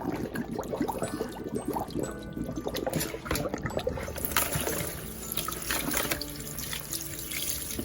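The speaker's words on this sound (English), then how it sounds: "then wash it, throw the water out." Running tap water splashing and trickling over something being rinsed, with shifting splashes and clatter, close by and continuous.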